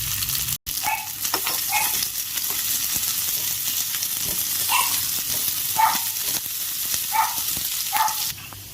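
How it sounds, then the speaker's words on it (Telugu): Ginger pieces fry in oil in a pan for a ginger chutney, a steady loud sizzle with crackling pops throughout, alone without talk. "ఇప్పుడు అదే ప్యాన్లోకి మనం ఆయిల్ యాడ్ చేసుకుని అల్లం ముక్కలను కూడా ఫ్రై చేసుకోవాలి"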